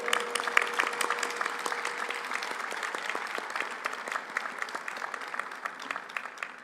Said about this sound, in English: Let's give ourselves a round of applause.